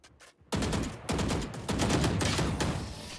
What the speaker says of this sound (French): Non, moi je tire dans la smoke, je la touche pas